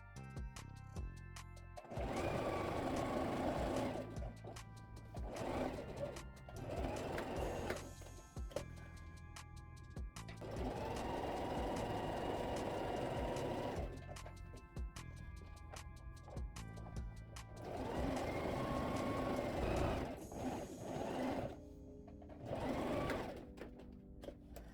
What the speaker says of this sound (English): we're going to sew along the top and the bottom of that elastic to make sure it stays in place